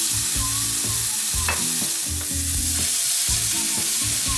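Seasoned salmon frying in a smoking-hot pan with olive oil, a continuous dense sizzle crackling loudly and evenly throughout, with faint low clanks underneath.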